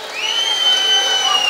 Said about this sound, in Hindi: जोरदार तालियां लेकर आए आपके लिए